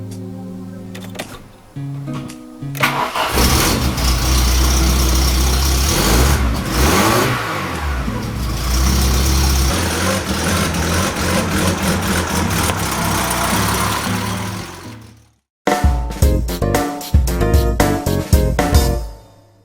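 A Volkswagen Golf drives with a loud, sustained engine roar that climbs and holds, cuts out briefly, then returns in choppier bursts.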